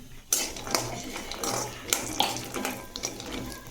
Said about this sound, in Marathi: आता काजू भाजून घेऊ आपण